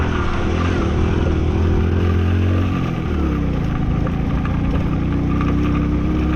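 A Bajaj Passion Pro motorcycle engine runs loud and close through a deep water crossing on a rough mountain road, with a steady low drone that shifts in pitch midway.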